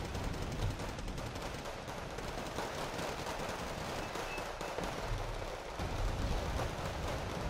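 Distant gunfire from long-range shots by MTLBV armored vehicles in the Wargame Red Dragon strategy game, a steady, dense crackle of bursts under a constant battlefield rumble.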